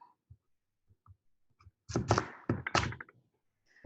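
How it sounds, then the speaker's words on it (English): A knife chops a large butternut squash into pieces on a cutting board: a few faint, scattered thunks, then a cluster of louder, sharper cutting knocks close by in an otherwise quiet kitchen. "And then I cut this in pieces because it's really big."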